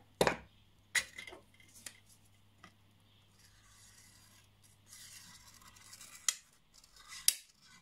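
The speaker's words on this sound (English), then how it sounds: "you won't be able to cut it with normal scissors. You're going to need tin snips" Tin snips cutting metal for scrap-wood angel wings, heard as a few sharp separate snips and crunches spread across a quiet stretch, close up and loud, followed by light rubbing and rasping handling noises.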